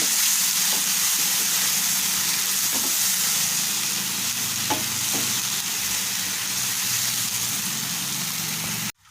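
A bitter gourd, tomato and onion masala fries with a loud, constant sizzle, punctuated by a few soft spatula scrapes as it is stirred, ending suddenly just before the nine-second mark.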